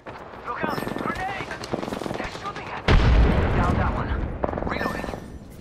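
Gunfire in the battle-royale shooter Apex Legends, rapid bursts of shots crackling close by amid the chaos of a firefight, with a heavy blast near the middle and players' voices talking over the action throughout.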